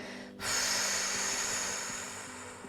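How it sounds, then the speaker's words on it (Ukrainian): A long, quiet exhale through the mouth during an abdominal exercise for diastasis, heard as a steady breathy hiss that begins abruptly and fades slowly, close to the microphone. "Я буду тихенько видихати."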